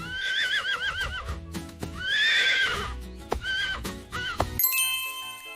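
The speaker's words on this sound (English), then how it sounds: "The horse neighs, stamping its feet." A horse whinnies in several rising, shaky calls, mixed with hollow clip-clopping hooves and stamping, ending with a bright ringing chime.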